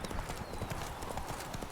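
Horse hooves clip-clopping steadily in The Witcher 3: Wild Hunt, a continuous trotting rhythm over dense game ambience with no speech.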